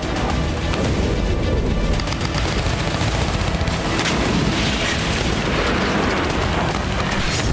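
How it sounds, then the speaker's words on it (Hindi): Heavy night bombardment in southern Gaza, with dense booms, explosions and bursts of gunfire rolling continuously and loudly for the whole stretch, no voices. "दक्षिणी गाजा पर रात भर भीषण बमबारी जारी रही।"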